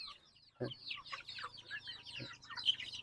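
Native chickens cluck and chirp softly in quick, overlapping bursts while pecking at feed, close by, with a couple of low thuds between the calls.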